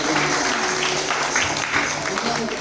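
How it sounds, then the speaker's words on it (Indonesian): Audience at a GBI Sola Gratia Jayapura church anniversary celebration clapping for a woman's husband, brisk dense applause alongside talk and background music. "Beri tepuk tangan buat suami dia."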